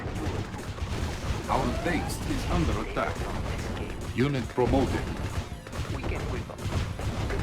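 Units firing on an enemy base in the strategy game Yuri's Revenge, a dense barrage of booming artillery and gunfire with crashes, continuous and loud, while a voice talks over the battle.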